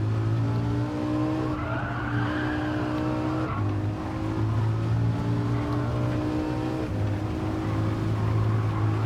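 A Lamborghini Huracan lapping a track, its engine holding a loud, steady drone with shifting pitch and tires squealing through understeer, close and continuous without talk.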